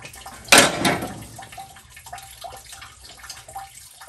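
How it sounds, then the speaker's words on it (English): Coolant water spills and splashes out of the engine of a 1989 Freightliner cabover during a head swap: one loud close gush near the start, then faint trickling and drips that continue to the end. "I'm going to try and keep maintaining a watch on this water, just so it's not pouring out on the floor"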